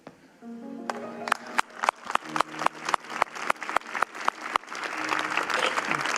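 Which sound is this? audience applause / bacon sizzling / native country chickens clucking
audience applause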